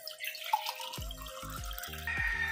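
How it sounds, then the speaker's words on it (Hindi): Water running from a household tap into a container, a steady splashing stream with drips and a rising fill tone as the vessel fills, close by and fairly quiet, no talk. "अब मैं पानी लेने आया तो पानी निकाल के ले चलते हैं."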